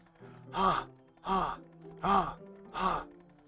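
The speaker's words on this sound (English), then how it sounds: "It sounds like breathing. A sharp inhale, like someone sucking air through their teeth." In the Doki Doki Literature Club video game, a character draws four sharp, hissing breaths through the teeth, evenly spaced and fairly quiet, with no talking over them.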